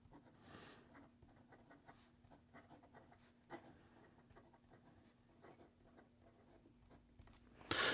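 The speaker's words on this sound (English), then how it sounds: "here we go with the rest of the writing sample" A Leonardo Momento Zero Grande fountain pen with a 14k gold medium nib writes a sample on paper, making a faint, continuous scratchy glide with soft strokes and an occasional louder tap.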